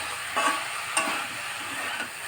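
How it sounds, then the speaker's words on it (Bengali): Food fries in a kadai with a steady, moderate sizzle and a few soft stirring scrapes and clinks, close by and with no talk over it. "আর এদিকে কড়াই ভাড়ালি বসিয়েছি, ভাজা করবো।"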